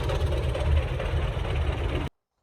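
A YuMZ-6 or MTZ-82 tractor engine runs steadily while driving to a disked field, a loud, close, low diesel rumble that cuts off abruptly near the end.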